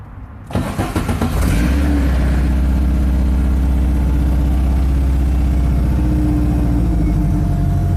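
VW Beetle fitted with a Subaru engine cranking over and catching, then settling into a steady, loud, close idle with a smooth low rumble that holds for several seconds.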